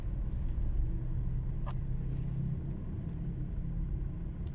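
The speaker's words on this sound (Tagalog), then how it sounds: "matutulin po yung mga sasakyan dito" Steady low road rumble of cars passing close by on a dangerous turn, a continuous engine and tyre drone with no clear single pass-by standing out.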